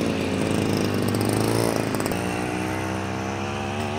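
A small two-stroke gas engine on the back of a secondhand scooter runs steadily and loudly throughout, a buzzy drone that rises in pitch briefly before settling, with no talk.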